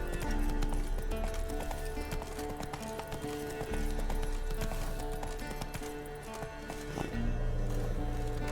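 Horse gallops in The Witcher 3: Wild Hunt, a quick, rhythmic clip-clop of hooves throughout, fairly faint, with game music and ambience underneath.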